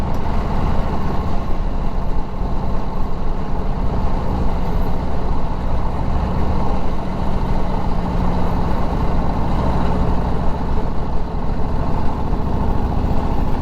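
Harley-Davidson WLA motorcycles ride together on a road run to a cafe, their engines giving a loud, constant low rumble with no letup and no talk.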